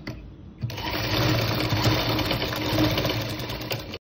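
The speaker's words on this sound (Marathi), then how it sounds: "आपण इथे डबल शिलाई घालूया।" A sewing machine double-stitches a cloth bag, starting up after a brief quiet moment and running in a steady close whir before stopping abruptly.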